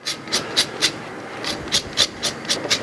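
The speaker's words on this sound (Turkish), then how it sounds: "Zerdemize bir adet limonun kabuğunu ince ince rendeliyoruz." Lemon peel grated finely on a hand grater for zerde, a Turkish saffron rice pudding, giving a rhythmic series of about ten short, close rasping strokes with brief pauses between them.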